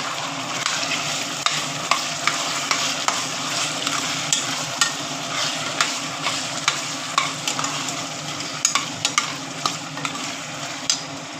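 A pan of vegetables fries in ground masala with green chillies and sizzles steadily as a utensil scrapes and stirs it in repeated sharp strokes, close and continuous, with no talking.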